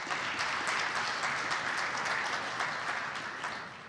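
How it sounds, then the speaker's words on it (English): An audience at a geography symposium gives a round of applause for a speaker coming on stage, a dense, even wash of clapping that stays loud throughout and eases slightly at the end. "let's give him a hand of applause. Round of applause."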